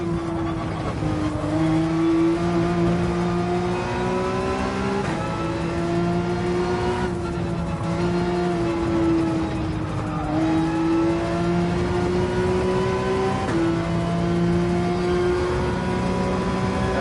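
A Porsche 911 GT3 race car engine holds a steady high drone on a lap of Barcelona in Gran Turismo 7, its pitch rising through each gear and dropping sharply at several shifts, loud and continuous with no talk.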